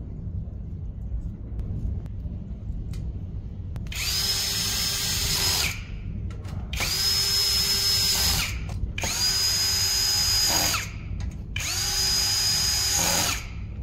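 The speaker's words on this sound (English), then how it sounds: "Next, install the control panel. Use B5 screws." A power drill drives screws while a control panel is installed on a GOBEL 15 kWh solar storage battery. Four long whining bursts run one after another over a steady low hum, each holding a high pitch.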